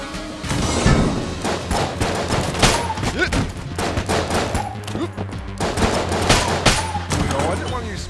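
Rapid gunfire from the video game Enter the Gungeon rattles in dense, continuous volleys of sharp shots, loud and close throughout, with thumping impacts mixed in.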